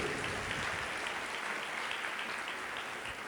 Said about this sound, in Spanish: Vamos a dar un aplauso a todos estos valientes que saben lo que es sufrir